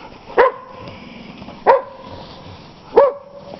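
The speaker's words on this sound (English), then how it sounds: "Barky, barky, Gypsy." Three separate sharp barks from a dog, evenly spaced about a second apart, fairly close, with quiet gaps between them and no talking.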